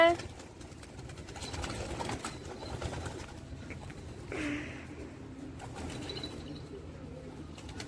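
Pigeons coo softly at a home loft while a person talks over them, with wind and faint background noise.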